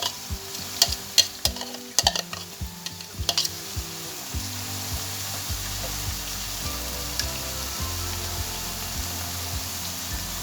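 Chopped green peppers stirred and frying in oil in a pan for imam bayildi, with a steady close sizzle and sharp scraping clacks of the spoon in the first few seconds, then continuous frying hiss alone.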